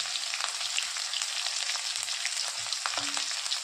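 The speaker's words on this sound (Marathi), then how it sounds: "एक चम्मच जिरे आणि आता टाकता हिरवी मिरची आणि लसूण" Green chili and garlic sizzle in hot oil with cumin seeds, a steady bright crackle that runs throughout, close and even, with a few sharper pops and no voices.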